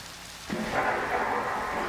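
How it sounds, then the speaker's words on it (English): Heavy rain pours steadily in a winter survival video game after a sudden onset, with a low rumble of thunder beneath the downpour and no one speaking. "Is the rain letting up?"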